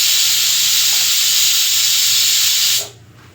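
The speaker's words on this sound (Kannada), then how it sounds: "ಬೇಳೆ ಸಾಂಬಾರ್ದು, ಅದು ವಿಷಲ್ ಕೂಗ್ತಾ ಇರೋದು ನೋಡಿದ್ರಲ್ಲ" A pressure cooker cooking dal for sambar lets out a loud, steady hissing whistle that holds for nearly three seconds and then cuts off abruptly, leaving near silence.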